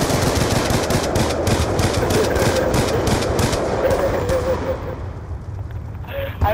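Rapid automatic gunfire in Call of Duty Black Ops 2 league play, a dense sustained burst of loud shots with booming low end that tapers off near the end, with players talking over it.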